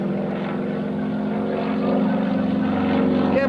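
Pratt & Whitney R-1340 radial-engine airplane at an air force base open house, its propeller tips giving a loud, steady rasping bark over the engine drone, swelling slightly toward the end with no talk.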